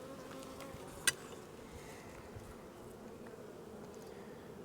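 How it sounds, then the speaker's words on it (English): Honeybees in an opened hive, a low steady droning hum throughout, fairly faint and close, with one sharp click near the start. "A lot of bees."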